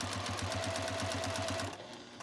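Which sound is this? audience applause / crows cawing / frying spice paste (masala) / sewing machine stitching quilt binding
sewing machine stitching quilt binding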